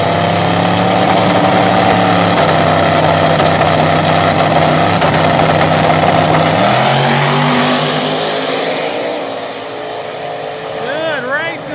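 A Turbo S10 drag races against Dakota at an outlaw small tire event, engines roaring loud and sustained with shifting pitch through the pass before fading, while an announcer talks over the noise.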